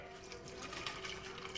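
Liquid pours steadily into a pan while breakfast is cooked, a continuous soft splashing and running-water wash that holds at an even level for the whole moment.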